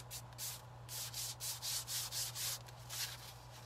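A baby wipe rubs back and forth over a painted wooden sign in about eight even, rhythmic strokes, each a soft close-up swish, with no voices.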